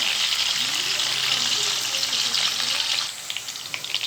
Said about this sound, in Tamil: இது நல்லா கொஞ்சம் பொன்னிறமாக வதக்கட்டும்